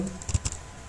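Computer keyboard keys tapped a few times in quick succession while a pip install command is entered, short soft clicks close up in a quiet room with no talking.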